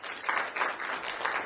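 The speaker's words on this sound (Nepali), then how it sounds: "उहाँको टिमले सबैले उहाँलाई ताली बजाएर अभिनन्दन गर्दैछ" Audience applause at a Nepali singing reality show, welcoming the show's organiser as the team joins in; steady, dense clapping that holds through the whole short stretch without voices.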